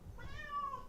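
A cat gives a single drawn-out meow, rising then falling, clear and fairly close over a low background rumble, with no talking.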